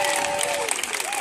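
A worship congregation applauds Jesus with a brief, dense burst of clapping, while a voice sings or calls out over the crowd.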